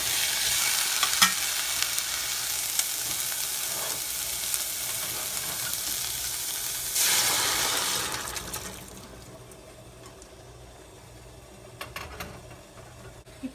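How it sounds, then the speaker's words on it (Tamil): Onion, green chili, curry leaves and cooked vegetables sautéing in a pan for sambar: loud continuous sizzling and scraping stirs that ease off and quieten toward the end, with no voices. "ஒரு பேனில் கடுகுந்தம்பருப்பு போட்டு அது வெடித்ததுக்கப்புறம் வெங்காயம், பச்சை மிளகாய், கருவேப்பிலை இந்த மூணையும் வதக்கி எடுத்துக்கோங்க"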